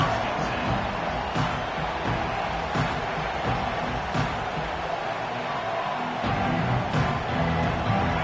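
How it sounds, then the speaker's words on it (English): A Michigan football stadium crowd keeps up a broad, steady roar with swells of cheering, the noise large and distant with no clear voices. "This crowd ready to make its presence known."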